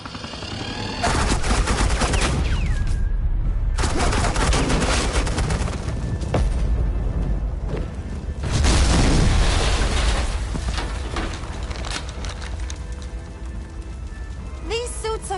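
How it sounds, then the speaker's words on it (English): Suppressing gunfire from the Batman The Enemy Within video game: loud, sustained automatic bursts that roar on and off with brief gaps, dense and close throughout. "Suppressing fire."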